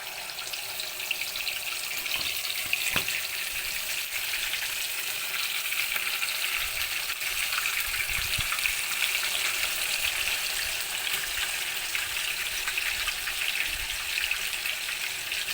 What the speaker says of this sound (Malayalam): ഓയിൽ ചൂടായിട്ടുണ്ട്. നമുക്ക് പൊരിക്കാം.